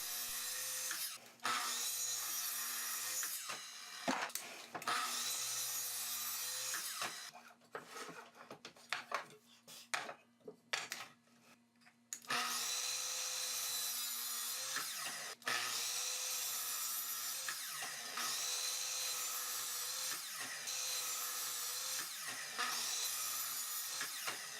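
Chamfers are cut on wooden back supports for a pipe clamp Moxon-style vise with a steady, loud power-tool whine, broken by a short stretch of clattering and handling noise partway through before the cutting resumes.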